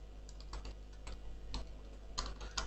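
A quiet run of computer keyboard presses entering Jupyter Notebook shortcuts, several crisp, separate clicks in an uneven rhythm with no talking.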